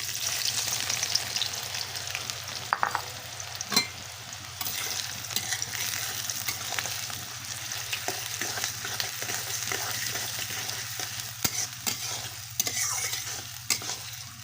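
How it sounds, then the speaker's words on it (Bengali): Chopped onions frying in hot oil in a wok, a continuous close sizzle with frequent stirring scrapes and clicks, loud and steady with no voices. "পেঁয়াজগুলোকে বাদামি রং করে ভেজে নেব।"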